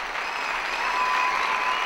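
A crowd at a Korean B-boy breakdance show applauds and cheers, a dense continuous wash of clapping and cheering, fairly loud and unbroken.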